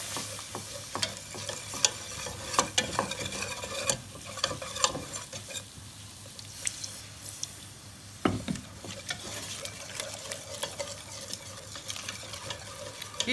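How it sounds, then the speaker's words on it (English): Cold milk being worked into a thick flour roux for moussaka, a steady scraping stir with light sizzling and occasional clicks of utensil against the pan, close and continuous with no talking. "And now we're going to start adding the milk."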